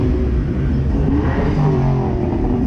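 A Ford GT revving nearby, its engine note swelling and holding loud and steady across the whole stretch, with no talk over it.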